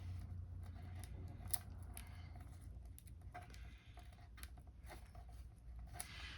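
Sticky backing tape being peeled off a strip of Velcro, a close, soft crackling and tearing texture with faint scattered ticks and no voices.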